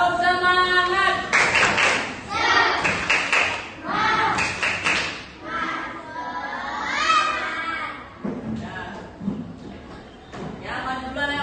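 A classroom group performs the Indonesian 'tepuk semangat' rhythmic clapping chant during a games break, with sharp claps in patterned bursts under loud chanting voices, close and lively.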